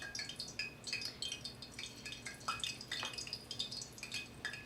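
Hot frying oil for scallop tostadas and tacos crackles and pops with fine, irregular bubbling as tongs are dipped in, a quiet close sizzle with no talking.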